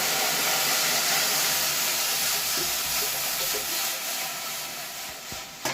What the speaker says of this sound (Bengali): আমি ডালটাকে সিদ্ধ করার জন্য কড়াইতে দিয়ে দিচ্ছি জল